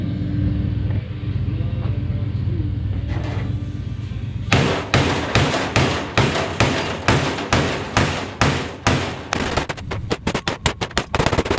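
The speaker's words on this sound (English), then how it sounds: "whack that dude with a big hammer" Heavy hammer blows ring out on a Jeep tailgate, loud and close, in a fast irregular series of sharp clanging strikes after a rumbling machine-like start.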